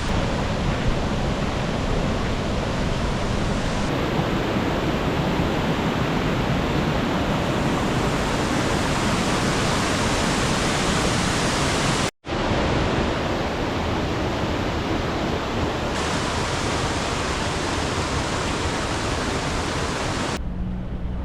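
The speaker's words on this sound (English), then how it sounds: "We're gonna go check out some waterfalls right on the side of this road." Constant roaring rush of a roadside waterfall in Colorado fills the scene, loud and steady throughout with one brief dropout midway.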